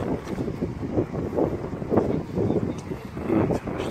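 Strong wind blows outdoors and buffets the microphone in a constant, gusty roar with uneven swells. It is loud and close, with no clear voice over it.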